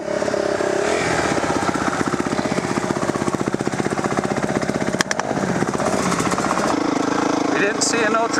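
A dirt bike engine running while riding: a loud, close, steady buzzing rumble with rapid pulsing throughout, briefly rising and dipping near the end.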